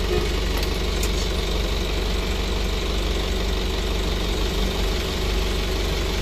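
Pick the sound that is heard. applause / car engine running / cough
car engine running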